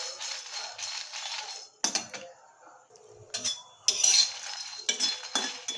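A spoon scrapes and clinks against a pan while peppercorns fry, giving bursts of metallic stirring rattles separated by brief quiet gaps, close and moderately loud.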